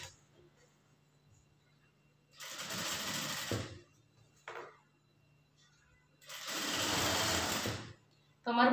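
A sewing machine stitches a straight seam in cloth during tailoring, running in two close, steady bursts of rapid whirring separated by quiet pauses and light handling sounds.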